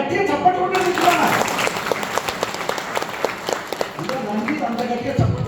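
An audience of newly recruited faculty at an orientation talk in Kalwakurthy bursts into loud, sustained applause, many hands clapping together as a dense wash that carries on without talk.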